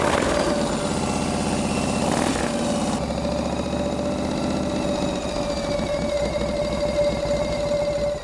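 A motorcycle engine runs steadily with a continuous loud drone and a persistent high whine, close by.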